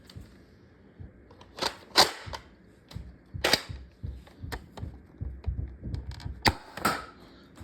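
A Buzzbees Twist Fury dart blaster fires X Shot darts, with a string of sharp, close clacks and pops at irregular intervals, some louder bursts among smaller mechanical clicks.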